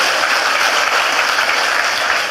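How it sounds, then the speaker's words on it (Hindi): Loud, sustained applause from a large crowd at a Modicare business training event, steady clapping throughout with no voices. "जोरदार तालियां हो जाए"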